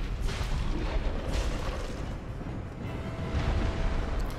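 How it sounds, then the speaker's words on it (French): A big explosion from a boss fight in the game Dark Souls, a broad booming roar that swells and rumbles for several seconds, fades slightly midway, then surges again, loud and dense throughout. "il va faire une grosse explosion"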